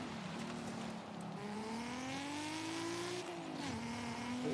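Nissan GT-R R34 in Forza Horizon 5 revving through a steady climbing engine note with a gear shift, loud and close with faint tyre noise, no talking.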